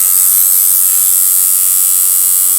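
Coil tattoo machine running at 10 volts, a loud, steady, high-pitched electric buzz held unbroken for the whole stretch with no voices.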